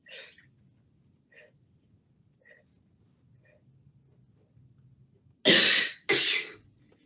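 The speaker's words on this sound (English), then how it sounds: "instead of blowing it out, I want you to produce a really hard cough" Two hard, deliberate coughs burst out near the microphone after a series of short stacked breaths, loud and abrupt against an otherwise quiet room during motor neurone disease breathing training.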